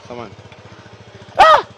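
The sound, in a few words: boda boda motorcycle taxi engine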